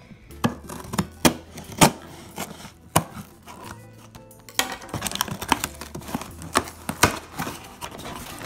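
A knife chops in sharp, irregular knocks on a hard surface, a dozen or so close, distinct cuts with brief gaps between them and no talk.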